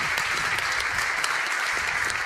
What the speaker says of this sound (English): clapping it up, clapping for himself